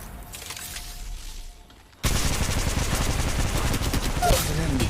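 Dense, steady gunfire from the video game Fade kicks in abruptly after a quieter opening, with rapid repeated shots and booms continuing loudly to the end.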